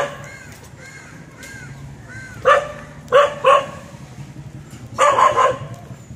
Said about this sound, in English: So this dog is after my ass.